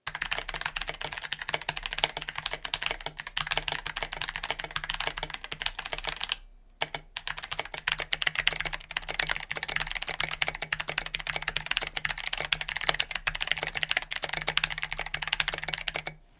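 Fast, steady typing on a keyboard with Kailh Box Pink clicky switches and SA keycaps gives a dense run of crisp clicks up close, with one short pause partway through.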